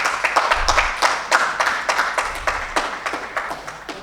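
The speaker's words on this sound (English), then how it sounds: "I would like the audience to have a huge round of applause" Audience applause at a book launch during a CSR awards summit in India: many hands clapping in a steady, fairly loud burst with distinct sharp claps throughout.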